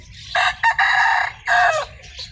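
A gamefowl rooster at a game farm, father of the chicks, gives a few loud, close crows and clucks in separate bursts with short pauses between.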